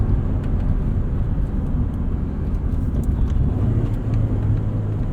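A 1991 Honda Civic Si EF hatchback with a non-VTEC D16 engine hums from inside the cabin while driving, a deep, steady low rumble that rises slightly in pitch toward the end.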